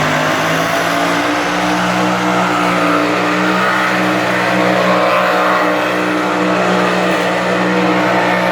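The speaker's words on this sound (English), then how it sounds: "That ungodly noise is a tractor pull going on." Tractor pull engines roaring at a state fair, a loud sustained heavy engine drone with steady harmonic tones, heard from a distance across the fairground without letup.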